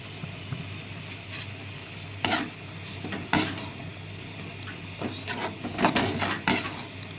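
Mushroom pepper masala being stirred in a pan after pepper powder is added, with a soft background sizzle and occasional sharp spoon scrapes and clinks against the pan, fairly quiet, with no talking.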